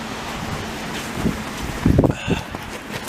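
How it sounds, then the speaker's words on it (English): Wind buffets the microphone on a residential street on Cavendish Boulevard in Montreal's NDG borough in bad late-February weather, a steady loud roar with a few stronger gusts. "Oh, yeah, walking with the wind."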